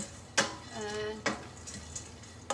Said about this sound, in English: I'm roasting these nuts.